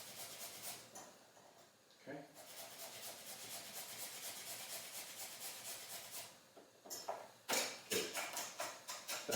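Food grated by hand on a kitchen grater while making chicken tikka masala, heard as a continuous close rasping scrape in repeated strokes, pausing briefly a couple of times before faster, sharper strokes toward the end.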